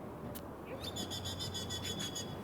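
A bird calls outdoors in a quick series of repeated high, clipped notes after a single earlier chirp, moderately near over a steady low background hum.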